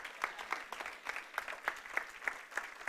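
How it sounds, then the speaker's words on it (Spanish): A church congregation breaks into applause, a faint, rhythmic clapping with regular sharp beats across a few seconds, heard at some distance. "denle un fuerte aplauso al Señor"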